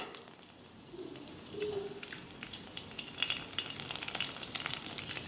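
Phuchka puris frying two at a time in hot oil, a steady close crackling sizzle that builds and brightens as they puff, with no talk.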